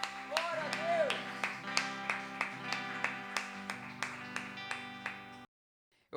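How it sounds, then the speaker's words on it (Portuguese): Church congregation at a worship celebration clapping in a steady, regular beat over sustained music and held tones, each clap sharp and evenly spaced before stopping abruptly near the end. "Você pode aplaudir ao Senhor mais uma vez?"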